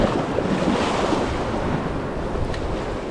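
Big ocean waves roll in and smash against shoreline rocks, heard from a height as a loud, continuous roar of surf with heavy wind buffeting the microphone.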